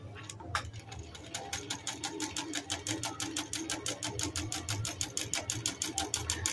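A Janome L373 sewing machine stitches a sample on drill fabric, a steady close run of rapid rhythmic needle clatter that speeds up slightly and continues throughout over a low motor hum.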